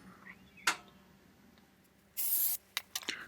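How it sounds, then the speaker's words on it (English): Penetrating oil sprayed onto the center hub of a front brake rotor on a 2003-2008 Toyota Matrix: one steady hiss of about a third of a second, then several short spritzes, close and clear with no talking. "You can also use a little bit of penetrating oil on the hub in the center."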